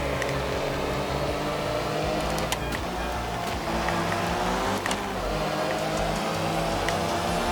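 Rally car engine in the racing video game Art of Rally, holding a steady, droning high-rpm note at top speed around 78 mph, continuous and close with a few brief clicks and bumps.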